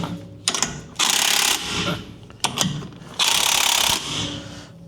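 A ratchet tightens lug nuts on a wheel adapter fitted to a 1983 Toyota Cressida, two loud bursts of rapid close-up clicking separated by quieter handling noises and taps.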